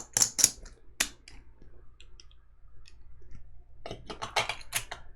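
Plastic board game chips clack and click as they are shuffled and sorted on a table, in two clustered bursts of sharp taps separated by a quieter pause with a few scattered clicks.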